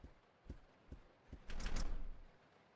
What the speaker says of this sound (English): The door to the dining car is locked.